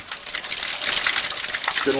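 Clear, drinkable water rushes through a stone-carved channel at Machu Picchu. A steady, fairly loud broadband gush runs throughout, with a brief voice near the end.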